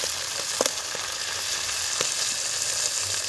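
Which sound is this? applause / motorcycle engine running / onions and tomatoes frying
onions and tomatoes frying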